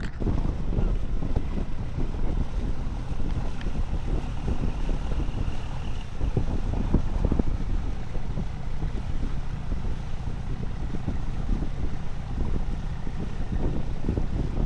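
Steady roar of speedboat engines out on open water, with wind buffeting the microphone throughout and waves washing underneath; no voices.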